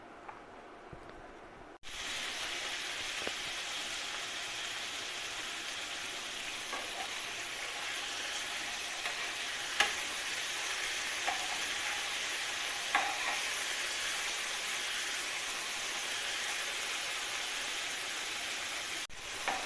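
Chicken fries in about four spoonfuls of oil in a frying pan for a grilled chicken cheese sandwich, giving a steady, close, loud sizzle that starts abruptly after a short quiet moment and carries on with a few light clinks and pops, with no voices.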